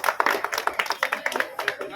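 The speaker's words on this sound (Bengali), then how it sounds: "হাততালি দাও।" Small group clapping at a tree-planting inauguration outdoors, distinct uneven hand claps in a loose rhythm, fairly close, with voices mixed in.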